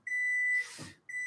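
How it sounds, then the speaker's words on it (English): A kitchen timer beeps during baking of a pizza crescent ring: one long steady electronic tone, a short gap, then the tone starts again, clear and close, with no one talking. "Okay, so the timer's up."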